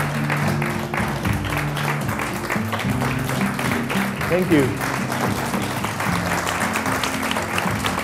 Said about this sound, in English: big applause for Natalie